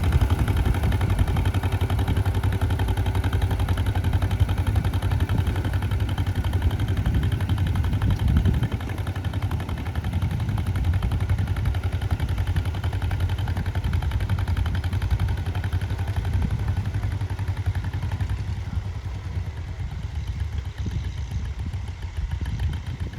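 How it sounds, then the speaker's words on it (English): A John Deere Model 40 tractor pulls a John Deere 415A mounted plow at a plowing contest, its engine a steady low chugging drone throughout, with no talk over it. "David's competing with a sharp-looking John Deere Model 40, pulling a John Deere"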